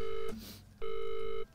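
Two electronic telephone rings in the horror video game Visage, each a loud, steady tone lasting about half a second, separated by a short pause.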